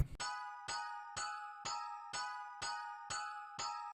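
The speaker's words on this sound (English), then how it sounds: "it's going to be another layer of that same pattern as the first two, but with this bell" A bright synthetic bell melody layer for a wavy hip-hop beat strikes eight evenly spaced notes, each ringing clearly with a shimmering, glassy tone before fading, and no other sounds accompany it.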